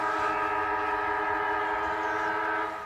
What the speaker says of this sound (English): And the siren sounds as Bowles kicks the ball back to the central umpire